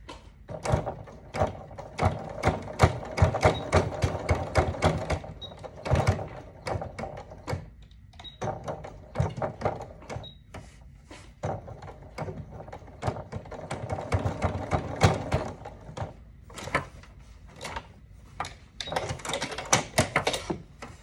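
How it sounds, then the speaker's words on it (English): A sewing machine stitching a Yup'ik kakivik, bursts of rapid needle clatter that start and stop with short pauses between runs, close and fairly quiet. "So I'll just sew it across there first."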